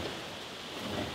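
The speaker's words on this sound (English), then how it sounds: "Storm is here." Rain hisses steadily during a storm in the woods, with a soft low rumble underneath that could be distant thunder. The sound is faint and even throughout, with no speech.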